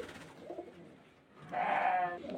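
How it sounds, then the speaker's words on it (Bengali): Green pigeons kept for sale at a home pigeon seller in Beldanga Uttarpara give two close cooing bursts, the second louder and fuller, with no talking. "পায়রাগুলো অ্যাকচুয়ালি বিক্রির জন্য দেখানো হয়, সেলের জন্য।"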